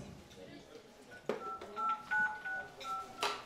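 Phone keypad dialing tones at a Kazakh wedding celebration, a series of short beeps pressed one after another amid crowd noise and a voice speaking.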